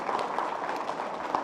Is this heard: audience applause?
yes